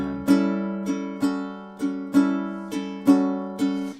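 A ukulele strums a blues shuffle rhythm through the first four bars, eight sharp, evenly spaced chord strokes ringing with a swung pulse, played solo and up close.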